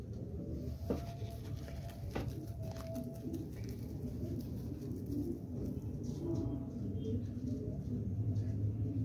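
Soft pigeon coos murmur in the background amid a steady low rumble, with a few faint clicks and rustles; no one speaks.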